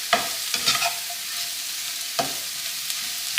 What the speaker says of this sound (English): So we're just going to saute these